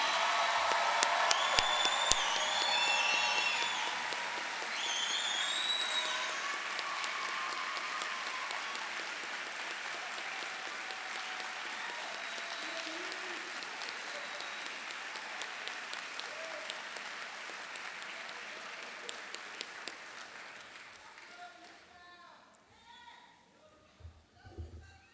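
A graduation audience cheers the class of 2022 with loud sustained applause and scattered whoops that slowly fade away toward the end.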